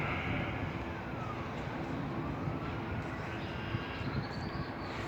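A plane flies overhead in a Canadian neighborhood, a faint, steady low roar that holds for several seconds with no talking over it.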